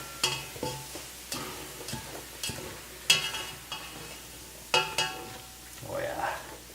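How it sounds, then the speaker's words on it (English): Onions cooking in a pan, with a soft steady sizzle beneath sharp intermittent clinks and scrapes of a utensil stirring against the pan, close and moderately quiet. "The onions have basically been cooking in here."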